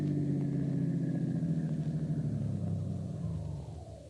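A car engine rumbles steadily at low pitch as the vehicle rolls into a garage in a workyard, then eases off and fades slightly near the end, no voices over it.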